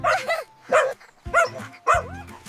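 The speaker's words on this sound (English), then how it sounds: "Dog says, woof, woof." A cartoon farm dog barks four times, short, close and evenly spaced, each bark sharp and loud.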